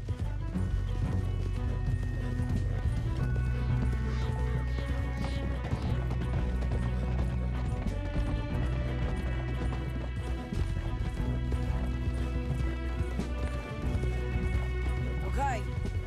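Horses gallop in Red Dead Redemption 2, a steady run of hoof clip-clop with occasional whinnies under continuous music and game sound, with voices talking over the ride.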